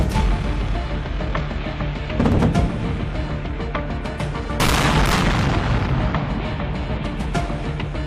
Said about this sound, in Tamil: வீடியோவில் தீப்பற்றும் மற்றும் வெடிக்கும் காட்சிகள் தெளிவாக பதிவாகியுள்ளன.